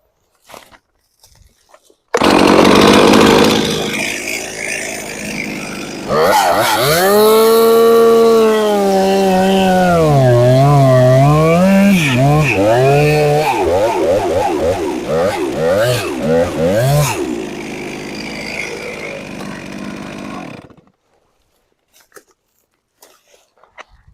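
Chainsaw cutting the bottom cut of a face notch while felling a tree, loud and close, revving up, then bogging and wavering in pitch as it bites through the wood for about fifteen seconds before cutting off.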